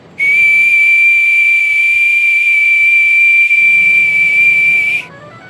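One long, loud steam whistle blast holds a steady high pitch for nearly five seconds, then cuts off abruptly.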